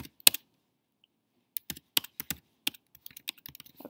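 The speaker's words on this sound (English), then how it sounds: "and I'm just going to type in set A." Sparse, irregular keystrokes on a computer keyboard, close and clear in a quiet room, arriving as a single tap and then short bursts of typing.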